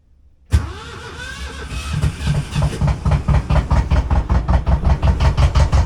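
A boat engine cranks, catches, and settles into a loud, steady idle with a rhythmic chugging pulse close by.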